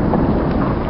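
Thunder rumbling from a lightning storm over a creek in a Utah canyon, a steady loud low roar filling the whole second with wind and rain noise, no voices.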